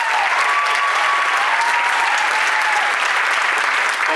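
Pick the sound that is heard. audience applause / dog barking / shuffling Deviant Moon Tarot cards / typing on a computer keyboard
audience applause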